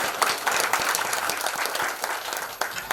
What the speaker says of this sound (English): Round of applause for you all participants.